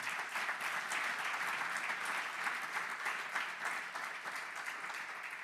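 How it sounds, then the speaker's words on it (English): Sustained applause from a tech conference audience at Effect Days 2025, a dense patter of clapping hands holding steady throughout without cheering. "another round of applause for Effect, the sponsors, everyone that put this on"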